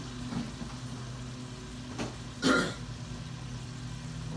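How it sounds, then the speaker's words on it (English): Sloppy joe ground meat browning in a pan, a steady low sizzle running throughout with a brief louder stir or scrape near the middle. "we're going to brown this off completely"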